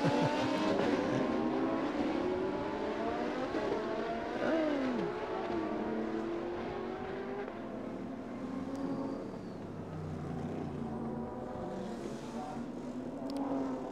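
Supercars roar past on the Chonburi street circuit, a steady wash of engines rising and fading at a distance, with brief engine pitch sweeps and no clear talk.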